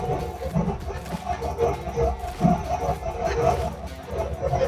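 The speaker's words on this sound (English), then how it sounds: "You can kind of hear that whine. That's that worm gear." Skid Pro tiller attachment working soil, a continuous low churning rumble with a wavering whine from the worm gear running underneath, close and steady throughout.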